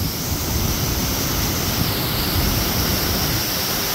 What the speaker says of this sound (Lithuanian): Nu va, dabar tai čia jau šitas krioklys.